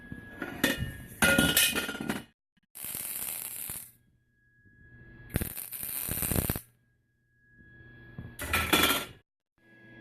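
Metal bar stool legs are shifted and swapped on a welding bench, producing bursts of clanking and rattling metal separated by short quiet gaps, close and fairly loud.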